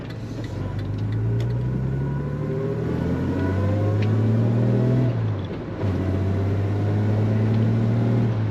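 A Jaguar E-type Series 1 4.2 roadster driving with the roof up on a cold day, its engine pulling hard and rising in pitch through two loud, sustained accelerations, with a brief dip for a gear change between them.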